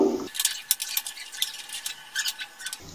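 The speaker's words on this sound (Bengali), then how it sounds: "এবার খাজাগুলো তুলে ফেলছি, তেল থেকে ছেঁকে তুলে ফেলছি খাজাগুলো।" Fried khaja pastries are lifted out of hot oil with a slotted spoon, making a string of light metallic clinks and scrapes over a soft, faint sizzle.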